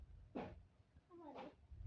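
A cat gives two short, soft meows about a second apart, fairly quiet and a little distant, up in a tree, with no voices.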